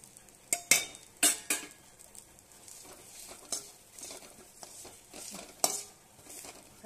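Chivda ingredients dry-roast in a pan with very little oil, heard as quiet intermittent stirring scrapes and several sharp spoon-on-pan clinks over a faint sizzle, with no talking.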